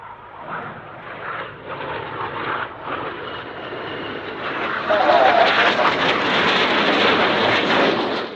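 Red Arrows jets fly a display at RIAT 2025, a continuous roaring jet wash that swells noticeably louder midway as the aircraft pass nearer, heard from a distance across an open airfield without clear talk over it.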